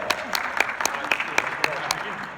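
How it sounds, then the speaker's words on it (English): A small audience claps at an entrepreneur talk, with scattered sharp claps rising over a steady wash of applause throughout. "Everybody give Mark a huge round of applause"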